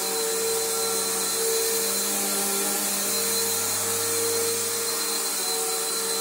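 A bagged Bissell Powerforce upright vacuum cleaner runs steadily close by, a loud constant whine with a motor drone underneath, no talking.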